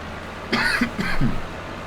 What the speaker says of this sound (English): I do apologise for the cough still on that